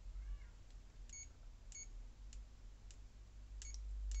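Aneng AN301 pocket multimeter sounding short electronic beeps during continuity testing, about half a dozen clipped tones spaced irregularly against a quiet hum.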